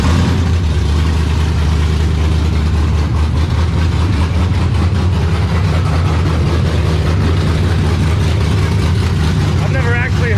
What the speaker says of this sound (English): I've never actually heard this engine with open headers before.